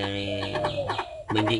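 A caged Chinese francolin calls in short, harsh tonal bursts, close and fairly loud, broken by a brief pause, while someone talks over it.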